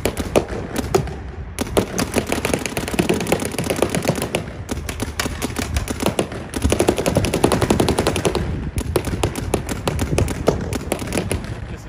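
Paintball marker with a CS2 mechanical frame firing Empire Premium paint: rapid, steady strings of loud, close pops in continuous bursts with brief gaps between them.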